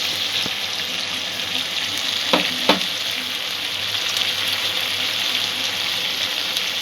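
Spice masala fries over a low gas flame in a pan for a potato-okra curry, giving a steady, close broadband sizzle throughout, with a couple of sharp utensil clinks near the middle.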